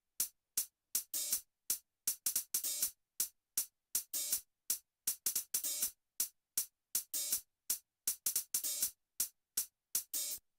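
Soca-style hi-hat pattern playing alone in a cool, sparse intro groove: crisp, loud hits in a steady syncopated rhythm, short closed ticks mixed with longer open sizzles, with no other instruments or voices.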